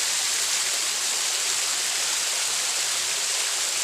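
Kong Oki waterfall pours in a steady, dense roar of rushing water, close and unbroken, with no voices over it.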